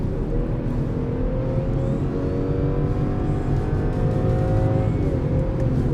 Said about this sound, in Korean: 노면 소음이 큰 차량인데 어떤 식으로 들리냐면요